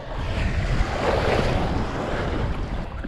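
Rough ocean waves slap and churn around a small 19-foot fishing boat out on choppy water, a continuous loud wash of surf mixed with gusting wind buffeting the microphone near the water's surface.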